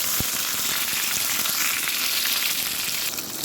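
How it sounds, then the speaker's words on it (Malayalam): Mustard seeds and curry leaves spluttering in hot oil, a dense, loud, continuous crackling sizzle with a sharp pop near the start, close and alone without any voices. "1 ടീസ്പൂൺ കടുകിട്ട് കൊടുക്കാം. കറിവേപ്പില ഇട്ട് കൊടുക്കാം."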